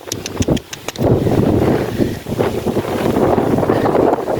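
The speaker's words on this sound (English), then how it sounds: "It's really windy." Strong wind buffets the microphone in loud, continuous low rumbling gusts at a horse riding session, with a few sharp taps at the start.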